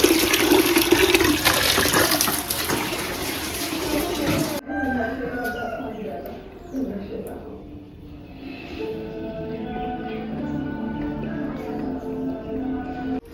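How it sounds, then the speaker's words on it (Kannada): Water poured over raw chicken as it is washed in a home kitchen: a loud, steady splashing rush for about four seconds, cut off abruptly, followed by quieter kitchen sounds and people talking. "ಚಿಕನ್ ಎಲ್ಲ ಇವಾಗ ತೊಳೆದಿದ್ದೀನಿ ನಾವು, ಅದಕ್ಕೆ ನೀರು ಹಾಕ್ತಾರೆ"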